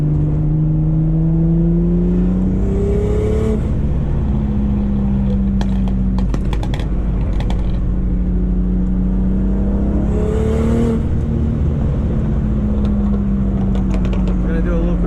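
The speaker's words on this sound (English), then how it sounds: "enjoy the view and the turbo sounds and the exhaust sounds" A car engine drones steadily while driving, rising and falling in pitch with turbo whine and exhaust note, loud and close throughout. The car is a Mazda RX-8 with a turbocharged Toyota 2JZ engine swap.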